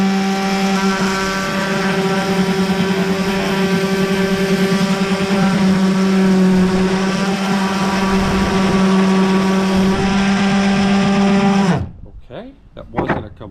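Orbital sander running in an upside-down mount, a loud close steady motor hum with a strong tonal whine, sustained for about twelve seconds, then abruptly cutting off into a few quiet knocks.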